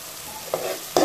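Onions sauté in oil in a pan, a close sizzle punctuated by two quick stirring scrapes, the second louder than the first.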